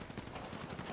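Gunfire from GTA 5 sits as a faint, muffled burst of rapid shots under a dense game soundscape, brief and distant-sounding.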